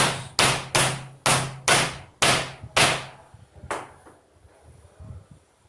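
Seven sharp mallet strikes on a wooden table, pressing spacers onto 18650 battery cells, booming and resonant, evenly spaced in quick succession, then an eighth after a short pause.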